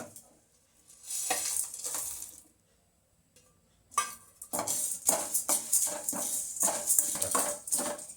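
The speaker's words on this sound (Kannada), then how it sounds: "ಇದಷ್ಟು ಇದರೊಳಗೆ ಹಾಕ್ಬಿಟ್ಟು ಫ್ರೈ ಮಾಡ್ತೀನಿ" Cumin, cinnamon, star anise, pepper and mace fry in a pan for homemade bisi bele bath and vangi bath spice powder, heard as bursts of hissing sizzle and stirring separated by a quiet pause.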